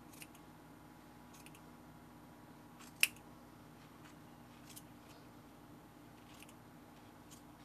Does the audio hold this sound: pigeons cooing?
no